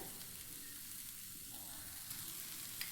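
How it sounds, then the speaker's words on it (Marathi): Cluster beans sauté in a pan with homemade black masala, a faint, steady frying hiss with a couple of small pops near the end. "भाजी छान दोन मिनटं परतून घ्यायची"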